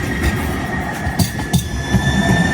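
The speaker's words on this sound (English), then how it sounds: "So there's my MAX train going to Hillsborough." A TriMet MAX light rail train rumbles past nearby, with low mechanical roar, wheel clatter and brief metallic squeals over a continuous hum.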